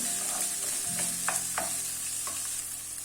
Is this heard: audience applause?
no